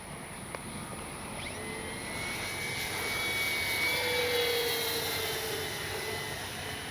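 An RC Focke-Wulf Ta-152H model warplane flies a big loop, its steady high motor whine swelling as it passes closer and easing off again, heard alone outdoors at moderate distance.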